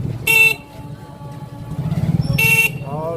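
A vehicle horn honks twice on a busy Indian street, two loud, sharp blasts about two seconds apart. Rumbling traffic and engine noise continue between and under them.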